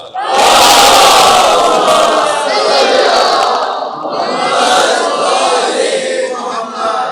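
A large crowd chants salawat loudly in unison, many voices blending into a sustained devotional recitation, with a brief dip before the chant swells again.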